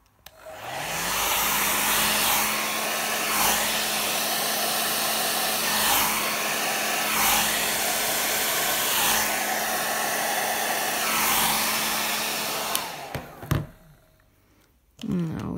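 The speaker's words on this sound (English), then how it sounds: "And my hairdryer." A hair dryer whirs loudly and steadily for a long stretch, its airflow pulsing slightly, then cuts off abruptly near the end with a few knocks.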